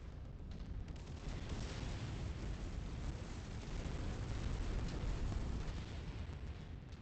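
Heavy, continuous rumbling explosions and booming artillery fire from a modded MechWarrior 5: Mercenaries battle, loud and dense throughout with no pauses or voices.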